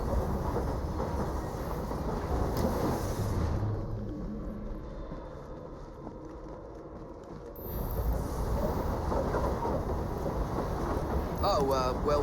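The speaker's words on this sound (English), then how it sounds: "Well, it's a noisy train." Steady rumble of a noisy passenger train in Assassin's Creed Syndicate, a continuous broadband roar with rail clatter that dips briefly mid-clip before swelling back, heard close and loud.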